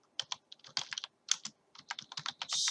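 Typing on a computer keyboard while creating a database schema: bursts of quick, close keystrokes in uneven clusters with short pauses, ending in a denser run of key clicks.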